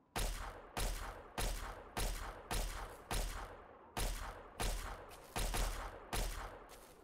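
Weapons fire in Fallout, ten loud, heavy bursts spaced about every 0.7 seconds, each one cracking sharply and then fading before the next shot lands.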